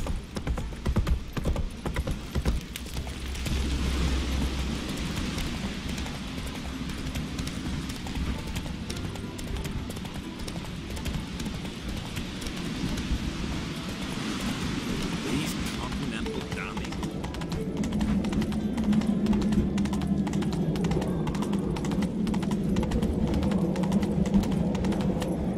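Hooves of Roach, the horse in The Witcher 3 video game, clip-clop in a steady rhythm throughout, under low ambient game sound and some background music.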